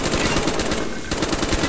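Rapid automatic gunfire from the Call of Duty: Black Ops finale mission "The Rusalka," a loud, dense stream of shots with no gaps, briefly dipping in the middle before resuming at full intensity, with no talking.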